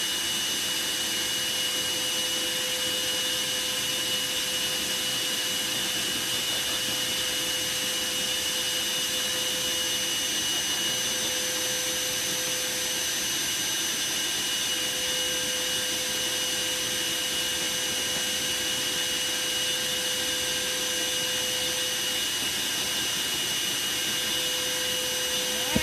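Blower drying a dog's coat during grooming: a loud, steady high-pitched airy roar with a constant whine, running close and uninterrupted throughout with no voices.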